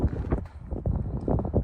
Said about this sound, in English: It's cold, very windy,